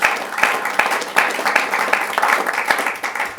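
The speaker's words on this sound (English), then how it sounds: "Let's give her a round of applause." Scattered, moderately loud clapping rises from the audience at a governor's press conference on the fentanyl crisis, with individual sharp claps standing out in an uneven rhythm throughout.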